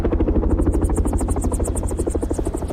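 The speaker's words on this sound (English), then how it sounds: "We just landed the helicopters." Helicopter on snow-covered sea ice at Hudson Bay, its rotor chopping loudly and rhythmically close by alongside a steady engine whine, no voices.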